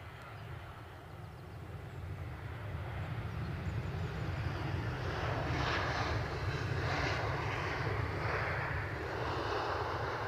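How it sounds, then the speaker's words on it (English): An EasyJet airliner arriving from Basel passes with a loud jet-engine roar that swells after the first couple of seconds and stays strong, heard from outdoors near an airfield embankment. "EasyJet from Basel next."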